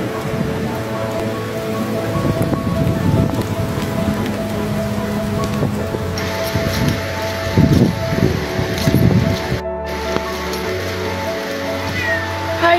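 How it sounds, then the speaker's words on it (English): Steady rain falls throughout, a dense continuous patter with occasional louder bursts, mixed with low background tones and a brief dropout near the end. "Some Of My Favorite Rain Moments"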